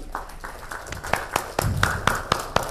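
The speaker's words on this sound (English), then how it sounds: "I want claps for this functionality, guys." A small audience claps at a SolidWorks software presentation: about a dozen sharp, scattered claps that grow slightly denser toward the end, fairly close and moderately loud.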